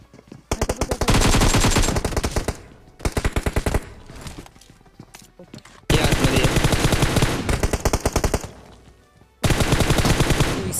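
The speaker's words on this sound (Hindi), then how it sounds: "ये बंदे को मारने के बाद हम लोग को माउंटेन के ऊपर से फायर आता है" Rapid automatic gunfire from a BGMI mobile battle-royale fight crackles in loud sustained bursts, separated by brief gaps with scattered single shots.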